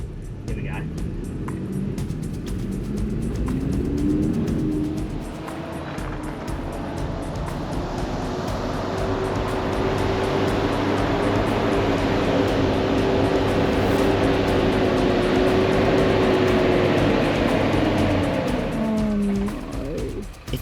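A 4WD churns through a muddy bog-hole creek crossing on the Gibb River Road, its engine revving and straining in a long rising and falling drone while water sloshes and splashes around it, loud and close throughout.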